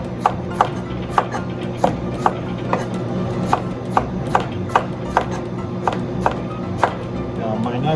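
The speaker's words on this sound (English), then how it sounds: "Be careful to when you're cutting the vegetable" A knife chops vegetables on a cutting board in a Japanese home kitchen, crisp evenly spaced knocks repeating about twice a second, close and clear over a low background hum.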